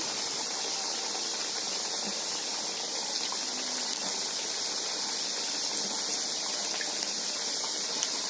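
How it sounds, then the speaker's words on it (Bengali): Egg and flour snacks frying in hot oil, a steady, even crackling sizzle that holds at a constant level throughout, with no talk. "এবার আমি একে একে পাখিগুলোকে তেলের মধ্যে দিয়ে দিচ্ছি ছেড়ে দিচ্ছি"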